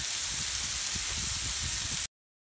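Smash burger patties sizzle on a hot cooking surface with a steady, bright hiss and faint crackle that runs evenly for about two seconds, then cuts off abruptly.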